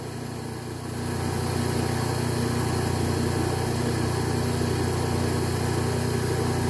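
A 1x30 belt sander runs steadily while sharpening scissors, a constant motor hum with a low droning tone that swells after about a second and holds evenly with no talk.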